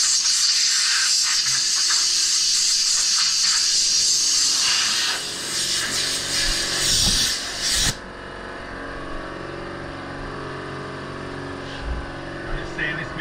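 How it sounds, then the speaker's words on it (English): Hand sanding of a wooden board gives a steady, loud rasping scrape that runs continuously for several seconds, then drops to softer intermittent rubbing with a few knocks. "I'll just sand this bit off."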